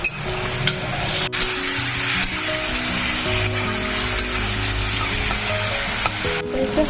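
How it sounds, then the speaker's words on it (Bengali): Ginger garlic paste fries with onions and tomatoes in a pan while being stirred, a loud, close, continuous sizzle with scraping stir strokes and a sharp click or two, no speech. "এখন দিয়ে দিলাম এই আদা রসুনের পেস্ট তো এটাও ভালো করে ফ্রাই করে নেবো"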